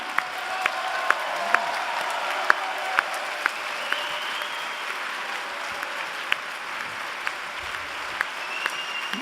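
Sustained audience applause at a political party's vote on its charter of values, a dense even wash of many hands clapping with scattered sharper claps, steady and loud with no talk over it.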